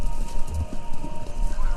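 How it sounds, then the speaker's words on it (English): Horses' hooves clip-clop in a race heard over a radio in the Kentucky Route Zero video game, a steady close drumming rhythm with a faint tonal hum and no voices. "Sounds like horses. Horses running. A race."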